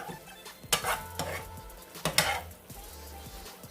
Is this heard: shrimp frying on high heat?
yes